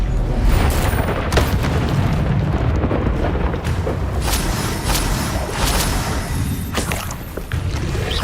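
Confringo blasting spells burst one after another in the wizarding game Hogwarts Legacy, heavy booming explosions and sharp pops stacked into a loud, dense barrage of combat impacts with no voices.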